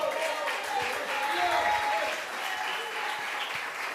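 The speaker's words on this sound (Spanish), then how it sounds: "Aplauda a Dios por eso." A church congregation applauds steadily for several seconds during a sermon, dense clapping close by with no pauses.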